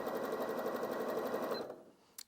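A Janome DKS100 sewing machine runs a zigzag stitch at a steady, rapid mechanical rhythm, close and alone, then stops abruptly with a small click at the end.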